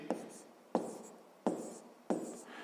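Pen writing a calculation step on paper during a 5th-grade maths exercise on corn yield per hectare: four distinct scratchy strokes at a steady rhythm, close and fairly quiet, with no talking.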